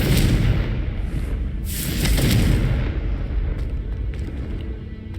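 A Confringo fire spell bursts in Hogwarts Legacy, a loud boom with a bright crackling flare in the middle, set over constant low rumbling game ambience.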